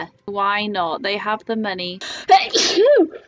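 A single sharp sneeze bursts out right after a short stretch of conversational speech, loud and close, with a brief high-pitched squeal trailing at the end.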